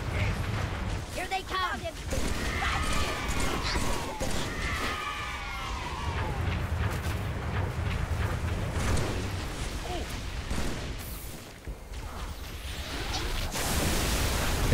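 Grenade explosions and heavy rumbling blasts in Halo 3 combat, loud and dense throughout, mixed with whooshing weapon sounds and brief bursts of talk.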